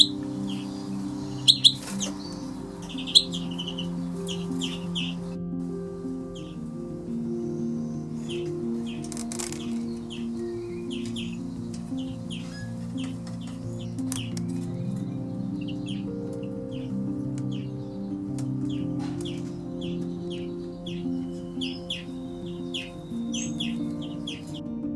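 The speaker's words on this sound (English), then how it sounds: "a hybrid you'd like to see with this two-barred parrot crossbill" A hybrid two-barred crossbill and parrot crossbill gives repeated high chirps and short calls, scattered across the whole stretch over a steady low mechanical hum.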